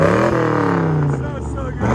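A 1984 Chevy Corvette C4 with a 5.7L V8, true dual exhaust, high-flow cats and Flowmaster mufflers revs up, a deep rumbling roar rising and falling up close while people talk over it.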